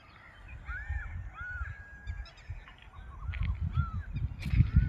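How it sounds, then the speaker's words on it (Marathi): Birds call in green hilly countryside, a few short rising chirps and caws scattered at a moderate distance, faint against a low rumbling background. "आणि पक्ष्यांचा आवाज एकदम नेचरशी एकदम कनेक्ट झाल्यासारखं वाटतंय"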